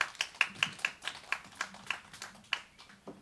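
Scattered hand claps from a small audience at a live song performance in Tiehua Village, about a dozen uneven claps over three seconds, faint and somewhat distant.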